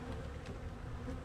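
Honey bees in an open hive during honey extraction make a dense, steady buzzing drone, close and continuous with slight swells in intensity, with no voices.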